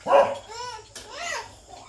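A dog barks a few times at close range, a sharp yelping bark followed by longer whining, howl-like barks, at a family gathering around cooking.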